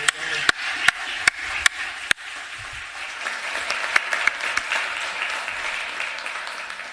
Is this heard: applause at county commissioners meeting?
yes